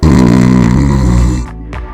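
Loud, deep snoring drones with a rough, rattling buzz, one long heavy breath followed by a shorter snort.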